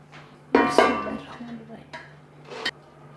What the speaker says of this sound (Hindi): अब इस टाइम मैं इसमें डालती हूँ चावल।